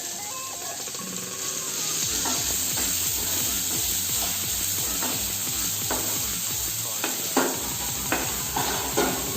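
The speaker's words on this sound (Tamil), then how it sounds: "வெங்காயம் ஃப்ரை ஆகும்." Chopped small onions fry and sizzle in a pan for cooking soya masala fry, with steady metal stirring and scraping strokes in a regular rhythm, close and moderately loud, a few sharper clinks near the end.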